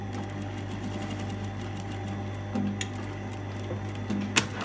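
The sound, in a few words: sewing machine stitching the skirt hem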